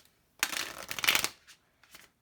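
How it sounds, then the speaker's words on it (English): Oracle cards are shuffled close up in a soft quiet riffle lasting about a second, followed by two brief faint shuffling taps. "Let's see, my dear. One last shuffle."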